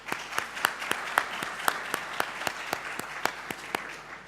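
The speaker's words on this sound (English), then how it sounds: "Applause." Audience applause at a navigation and geolocation conference session, steady clapping from a sizable room sustained for several seconds without talk.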